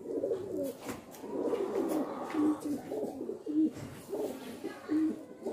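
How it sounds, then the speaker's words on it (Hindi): Pigeons coo close by in a loose, repeating series of soft, throaty rolling calls, with brief pauses between phrases. "ये देखिए दोस्तों कितना लाजवाब कबूतर है"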